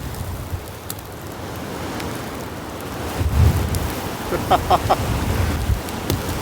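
Strong winter storm winds at a campsite during a blizzard, with ice blowing through: a steady, loud roar of wind and driven precipitation that swells in gusts, with no talking.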